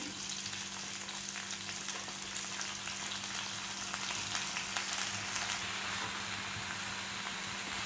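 Broccoli frying in a pan, a dense, even crackling sizzle that holds steady throughout, close but fairly quiet, with a faint low hum underneath and no voices.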